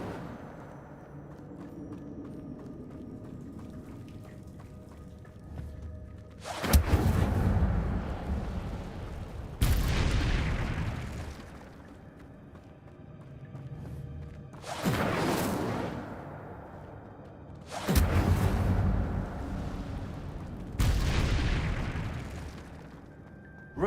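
Five loud, fiery bursts of the Incendio fire spell are cast in a Harry Potter video game. Each whoosh-boom lands a few seconds apart over a low ambient game backdrop.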